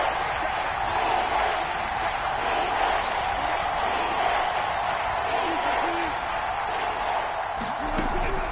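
Steady roar of a stadium crowd in a Madden football video game, building as the game heads into a big third down, broad and continuous with occasional swells and faint commentary-like voices underneath.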